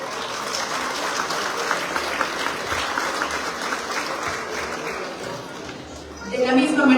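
Sustained crowd applause from an audience welcoming community members at an indigenous and Afro-Mexican recognition ceremony, steady and fairly loud for several seconds, swelling near the end.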